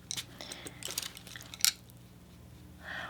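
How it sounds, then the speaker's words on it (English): Tarot cards are shuffled in an ASMR setting, with soft crisp flicks and riffles clustered in the first second and a half and then a quieter lull, close and intimate, with no speech. "Let me just shuffle these real quick."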